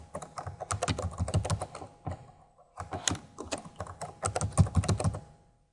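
Close, rapid typing on a computer keyboard during CentOS user setup: two runs of quick clicky keystrokes separated by a short pause.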